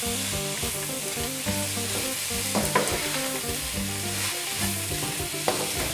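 Naem (Thai fermented pork) fried rice with spring onions is stir-fried in a hot pan, with a continuous close sizzle and scraping stirs under steady background music.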